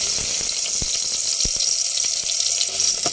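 Ginger sizzles in hot cooking oil in a pan for pork sinigang, a steady bright hiss with crackling pops throughout and no voices.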